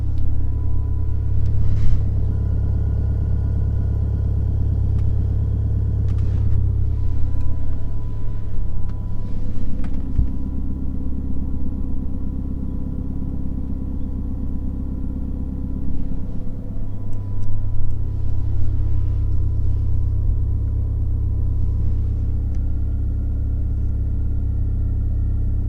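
Inside a car treated with Kilmat sound dampening, a low, steady road rumble and engine drone fill the cabin while driving, with slight swells and faint higher noises but no talking over its long stretch.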